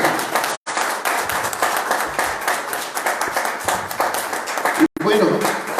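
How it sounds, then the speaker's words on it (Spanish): An audience applauds with sustained, dense clapping, loud and close, at a talk with an archaeologist, while a Spanish-speaking voice speaks over the noise near the end. "pidiéndoles un fuerte aplauso"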